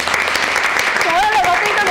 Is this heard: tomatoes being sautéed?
no